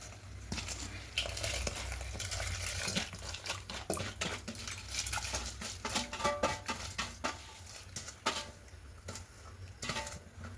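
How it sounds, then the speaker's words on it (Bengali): Rice being stirred into chicken biryani in a pot, with soft scraping, clinks and patter from a spoon against the vessel, moderately close and continuous with brief pauses. "চালটা দিয়ে ভালো করে আবার একটু মিশিয়ে নেব"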